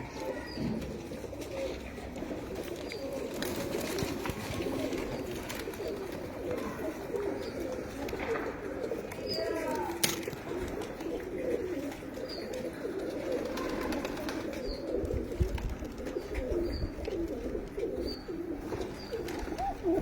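Female pigeons coo in a loft, a steady low murmuring of overlapping coos running throughout at moderate level, with faint chirps and occasional wing flutters mixed in.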